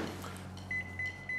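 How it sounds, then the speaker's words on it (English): Microwave oven heating double smoked bacon: a steady low electrical hum runs throughout, broken by three short, clear high beeps near the end. "take your double smoked bacon and head into the microwave"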